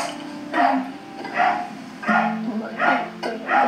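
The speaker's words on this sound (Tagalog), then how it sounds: "Ano ba yung aso nila?" A dog barks in four or five separate bursts about a second apart, fairly close and loud, with a person's voice mixed in underneath.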